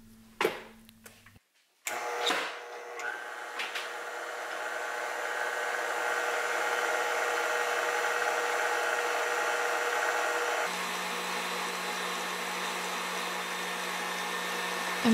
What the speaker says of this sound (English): I'm whipping these eggs on high speed until it becomes nice and fluffy.